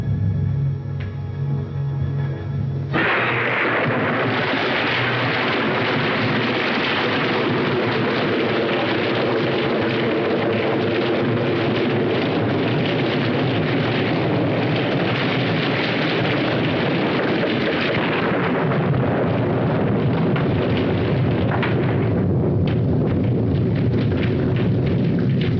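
Steady heavy rain pours down continuously as a dense, broadband hiss with no voices, starting abruptly after a brief quieter moment.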